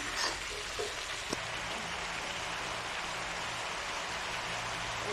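Pechay leaves hitting a hot pan with tofu and oyster sauce, giving a steady, fairly quiet sizzle and crackle that hisses evenly throughout, with a brief clatter early on and no talking.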